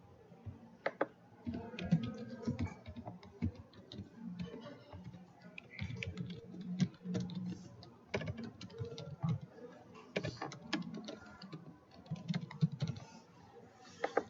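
Fingers tap out code on a computer keyboard in quick, irregular runs of clicky keystrokes with short pauses between bursts, close and quiet.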